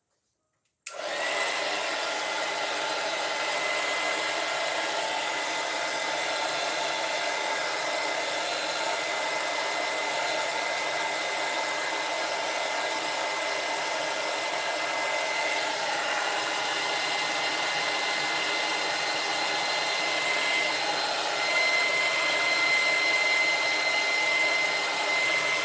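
A hair dryer switches on and blows steadily for about 25 seconds, a loud, close, continuous whooshing whine with no talk over it.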